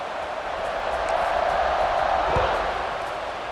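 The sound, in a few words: football stadium crowd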